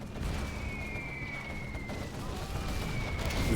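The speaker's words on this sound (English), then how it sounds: "Carpet bomb? Carpet bomb." Carpet bomb strike in Command & Conquer Generals Zero Hour: a dense, continuous rumble of explosions that swells louder toward the end, with a thin whistling tone drifting over it.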